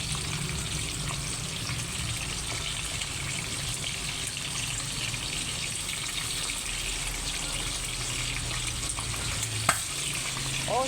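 Embutido and pork fry in a pan with a steady, dense sizzle and crackle that runs unbroken, close and fairly loud, with a single sharper pop near the end.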